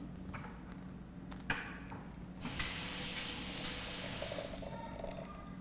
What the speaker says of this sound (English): we're going to take our zucchini water oil mixture and pour it in.